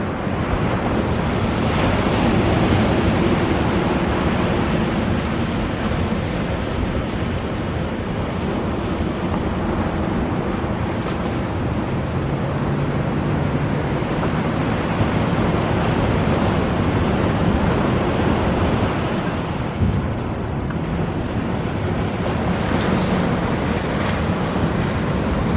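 A powerboat runs through ocean surf during an extreme boating outing, its engine buried in a continuous, loud roar of breaking waves and heavy wind buffeting the microphone for the whole stretch, with no voices.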